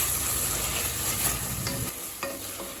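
Biryani masala with 2 tablespoons of fresh, non-sour yogurt is stirred and sautéed in a pan for plain kuska biryani: steady close sizzling and frying with scraping stir strokes, low rumble easing after a couple of seconds, no talking.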